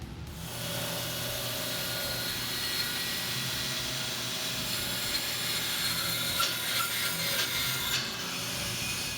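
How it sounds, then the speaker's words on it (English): A bandsaw runs close and steadily while trimming excess wood from a homemade electric guitar body, giving a constant whirring rasp with scraping and rattling near the end and no talk. "Have the bandsaw set up. I'm getting ready to turn it on and cut off some of the excess"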